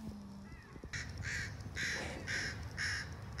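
A crow caws three times in a steady rhythm, fairly close and clear over a low outdoor background rumble, near a chimney where a nervous baby squirrel is stuck.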